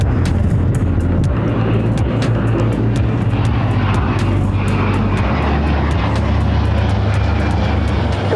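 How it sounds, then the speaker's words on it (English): A Delta Boeing 767 heavy jet roars down the runway on takeoff at Los Angeles International Airport, a loud, continuous, rumbling engine thrust heard close by without any talking. "India Alpha Oscar, crossway turbulence heavy, Boeing 767, departing the parallel now."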